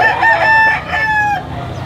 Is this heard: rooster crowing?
yes